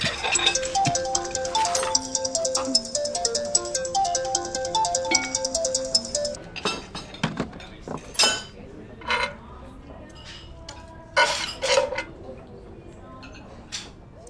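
A phone ringtone plays a repeating melodic pattern for several seconds and goes unanswered in a TV drama scene, then stops, followed by scattered clinks of dishes and cutlery.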